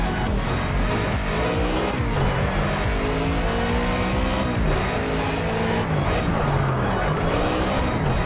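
A race car in the Project Cars video game screams at high revs with squealing tires as it skids, a loud continuous engine whine with gear shifts and no talking.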